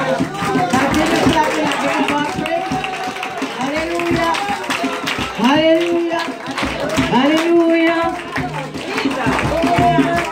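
A church congregation at a Sunday revival service claps in praise, rhythmic hand claps running steadily under loud, continuous singing and speaking voices that dominate throughout.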